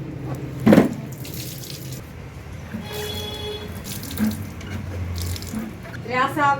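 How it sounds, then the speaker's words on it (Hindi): Water runs steadily from a tap while a blanket is washed at home on a Sunday: a close, continuous splashing flow with a brief louder gush near the start and faint voices in the background. "आज अम्मी और अब्बू मिल के काम कर रहे हैं और कंबल को धो रहे हैं।"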